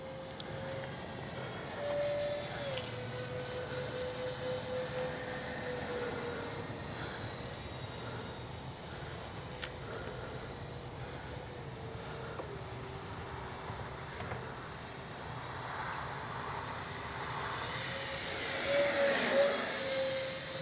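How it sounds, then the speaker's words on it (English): Freewing 64mm A-10 Thunderbolt II RC jet with electric ducted fans in flight, a steady high-pitched whine that shifts in pitch as it passes, swelling louder near the end as it comes close. "Oh man, what an easy flying A-10."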